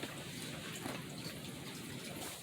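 Steady water pouring and trickling through a potted juniper, a continuous close gush with no break, like water running through soil and draining out.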